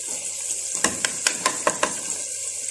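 Onions or aromatics frying for white chicken pulao, a soft sizzle with a run of five or six sharp spatula strikes against the pot in the middle, close and without talk.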